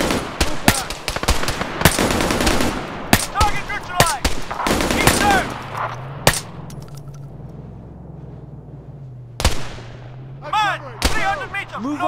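Machine-gun and rifle fire in the SOG AI Western Sahara video game: loud, sharp bursts and single shots crack repeatedly through the first half, then sporadic shots over a low engine-like drone, with shouted commands heard between volleys.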